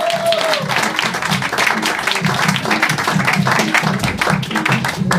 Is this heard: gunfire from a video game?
no